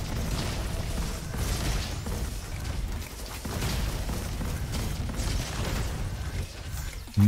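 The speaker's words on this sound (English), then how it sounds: "That's too many explosions." Dense, continuous explosions and booming bursts from the shooter game Roboquest, layered into a loud, chaotic barrage of rumbling blasts and crackling debris that runs without pause, with no voices heard.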